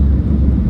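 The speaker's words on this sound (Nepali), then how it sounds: "प्लेन झर्ने सोचमा छ गाइज अब" A loud, low airplane engine roar during landing, close and steady, with no voices.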